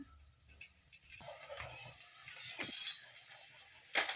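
Karanji, a sweet stuffed pastry, fries in hot oil after a brief quiet start, then a steady close sizzle and crackle sets in, with faint stirring clinks.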